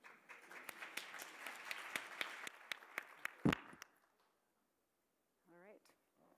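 Audience applause at a national health policy conference, a dense patter of many hands clapping for about four seconds with one loud clap near the end, then quickly fading to near silence before a brief voice.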